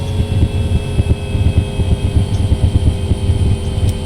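A UH-1 helicopter engine in a flight simulator runs as a steady, dense low drone with a rhythmic beating pulse and a faint high whine, sustained and fairly loud with no voices.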